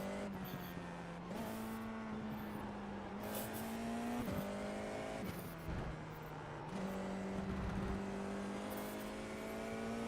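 An F4 race car laps the Okayama circuit in a racing video game, its engine droning loud and steady with repeated upshifts and downshifts through the gears, alone without talk.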